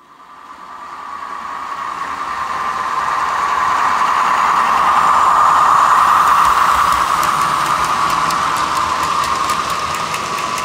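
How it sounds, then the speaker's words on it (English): A train roars in and builds to a loud, sustained rush with a hollow tonal whine, then holds steady with faint rhythmic clicks. "see if that doesn't sound a little bit more interesting than just the train"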